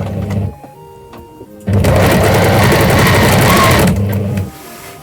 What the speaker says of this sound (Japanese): 左右と、あともう一つ裏表両方ミシンかけてきます。